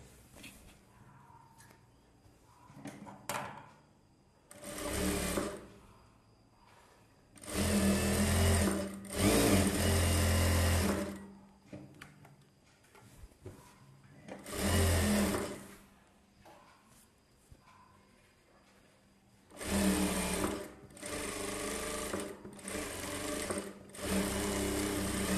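A sewing machine stitches the back neck of a silk blouse in several loud, close bursts of rapid mechanical whirring, separated by quieter pauses with faint handling sounds.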